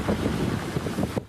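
Strong typhoon wind during Typhoon Krathon's landfall in Kaohsiung, Taiwan, roaring steadily and loudly in broadband gusts with some low buffeting against the microphone, cutting off abruptly near the end.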